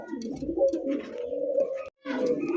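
Pigeons coo in a steady, rolling murmur close by, a low continuous warble that breaks off briefly near the end and then resumes, with faint chirps above it.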